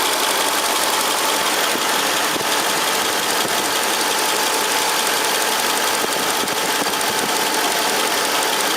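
A 2003 Mercedes CL55 AMG engine idles steadily with a constant hum and faint ticking after a power steering pump replacement, running alone for several seconds without talk.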